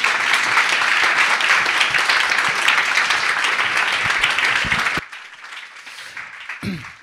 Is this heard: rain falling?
no